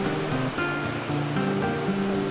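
The Tabakoshi river near Mirik, its muddy copper-brown water rushing past, makes a loud steady broadband roar, with sustained tonal music layered over the flow.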